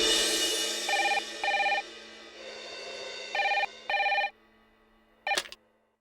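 An indoor telephone rings in a domestic drama scene, giving a classic double-burst electronic ring heard in several paired pulses, moderately loud and close, with a quiet room tone between the rings.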